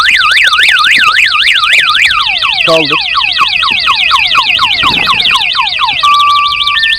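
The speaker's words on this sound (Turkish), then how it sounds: "buzzer devreye giriyor ve alarm ötmeye başlıyor" A loud motorcycle anti-theft alarm wails in rapid rising and falling sweeps, then switches to a steady tone; a voice briefly speaks over it.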